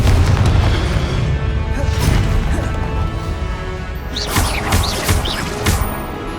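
A Confringo blasting spell explodes in the Hogwarts Legacy game: a loud, sustained boom with crashing, crackling debris that rumbles on for several seconds, then a few sharper bursts near the end.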